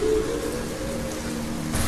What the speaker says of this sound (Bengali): বৃষ্টি পড়ছে টিপটিপ করে, আকাশে গর্জন